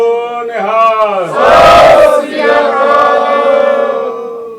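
A crowd bellows the Sikh jaikara reply Sat Sri Akal at a Delhi gurdwara committee election press gathering, one voice leading before a loud massed shout surges in and trails off.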